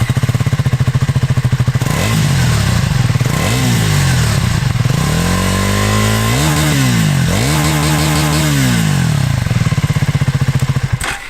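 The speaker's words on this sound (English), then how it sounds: "for a stock system, it sounds very, very good, providing of course you like the sound of a single cylinder" A Triumph Scrambler 400 X single-cylinder engine with its stock exhaust revs loudly up and down in several rising and falling sweeps, heard close and alone over a throbbing idle.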